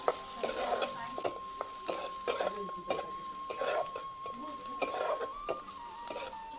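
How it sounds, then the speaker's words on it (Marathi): Onion and garlic sauté in a pan with a steady, close sizzle, broken by frequent scraping strokes of a spoon stirring against the metal. A faint steady tone runs underneath, and no one speaks. "कांदा पण टाकून घेऊ कांदा लसूण चांगला परतून घ्यायचा"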